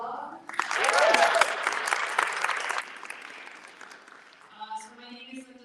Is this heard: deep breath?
no